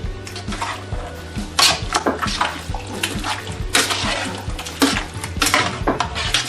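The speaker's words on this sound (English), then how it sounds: "And then I'm going to mix all this together again." A spoon scrapes and clanks against a pot while beef stew with diced tomatoes and green chilies is mixed, a steady series of close, wet metallic stirring knocks with no talking.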